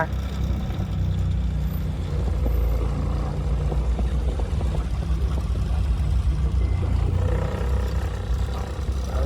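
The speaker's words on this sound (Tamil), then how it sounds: "கண்ணுக்கு எட்டும் தூரம் வரை டிராஃபிக் ஜாம் பாருங்க" A traffic jam on a road in Kerala brings a continuous low rumble of idling and slowly moving cars and trucks, steady and fairly close, with no voices.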